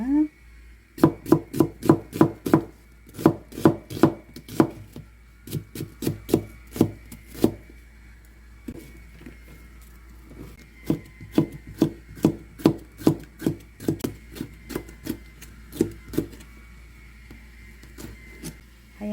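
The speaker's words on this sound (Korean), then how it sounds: "민들레이, 부추 먹기 좋은 크기로 썰어줍니다." Knife chopping dandelion greens and garlic chives on a cutting board for a Korean seasoned side dish: quick rhythmic taps in runs with brief pauses, close and fairly quiet against a low steady hum.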